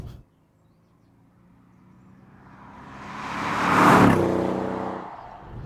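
A Mercedes-Benz CLS63 S AMG Shooting Brake driving past, starting near silent then swelling into a broad engine and tyre roar that peaks around four seconds and fades slightly, heard alone without talk.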